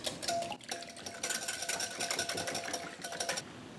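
A whisk beats eggs and milk in a bowl with fast, continuous rhythmic clinking and scraping, close and steady throughout.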